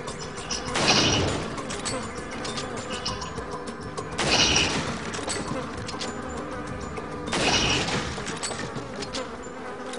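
Gunshots at targets in Resident Evil 4, three separate loud blasts spaced a few seconds apart, each with a short ringing decay over a steady background hum.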